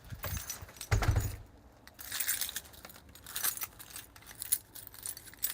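A large ring of many keys jangles and clinks in short bursts in a lunchtime setting, fairly close with irregular shaking, no talk over it.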